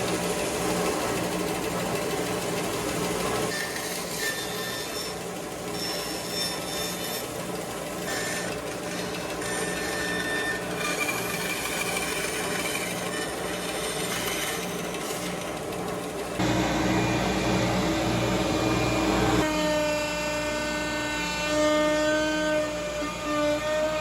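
A CNC router carves a wooden serving tray with a steady, droning whine, its tone shifting partway through as the cut changes, with no talk over it.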